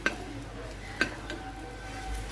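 Bread and egg toast in a pan with a spoonful of ghee over a low flame, giving a faint, steady sizzle. Two soft clicks of a utensil against the pan break through about a second apart, with no talk.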